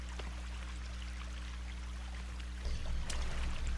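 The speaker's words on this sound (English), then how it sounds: "Yes, this is a waterfall." Waterfall inside a cave in the video game The Forest, a steady rushing pour of water that continues throughout, with splashier bursts near the end, and no talking.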